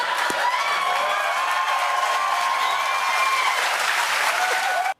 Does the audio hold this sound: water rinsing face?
no